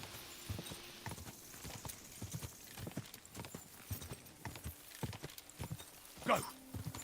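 Horse hooves clip-clop at a steady trot in the medieval game Kingdom Come: Deliverance 2, crisp rhythmic footfalls with a brief whinny near the end, and a faint voice speaking underneath.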